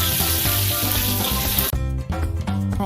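Crispy battered chicken sizzles and crackles loudly in hot oil. Partway through, the frying abruptly quiets to a softer bubbling with scattered pops as the pieces are lifted out.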